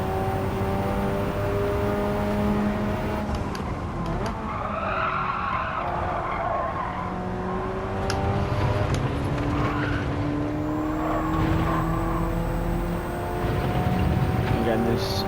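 Race car from Gran Turismo 7 lapping the Monza circuit, engine note rising and falling through gear shifts with repeated tire skids and squeals, loud and continuous over the whole run, with a voice talking over it.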